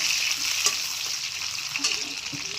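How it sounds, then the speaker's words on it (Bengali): Raisins sizzle in hot ghee mixed with refined oil, a bright crackling hiss with a few sharper pops and spatters, close and alone. "কিশমিশটা হালকা করে একটু ভেজে নেব।"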